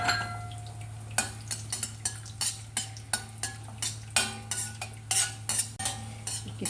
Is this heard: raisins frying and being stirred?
yes